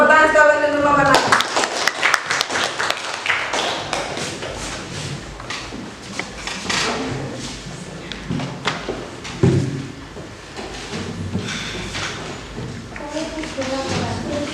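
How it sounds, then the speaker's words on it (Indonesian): An audience claps for a student group after its presentation in a teacher-training class. A voice is heard at the start, then scattered claps continue at moderate loudness alongside background talk. "Tepuk tangan sekali lagi untuk kelompok 6."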